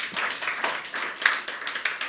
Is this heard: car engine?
no